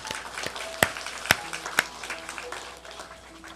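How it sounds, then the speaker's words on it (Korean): Church congregation at a Sunday worship service clapping to give glory to God, a loose scattering of claps with a few sharp, louder ones standing out, fairly faint and thinning toward the end. "우리에게 이 한 해를 건강하고 은혜롭게 살게 해주신 하나님께 영광의 박수 올려드리겠습니다."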